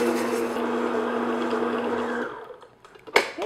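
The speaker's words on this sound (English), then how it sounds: "then we're going to put the mixer on" Electric stand mixer whirs steadily at second speed while kneading brioche dough with sugar being added, a close, even motor hum that stops after about two seconds, followed by a short clunk and quiet handling.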